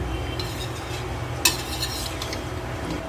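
Chicken patiala being stirred slowly in a pan over medium flame, a utensil scraping and tapping softly against metal with one sharper clink, over a low steady sizzle.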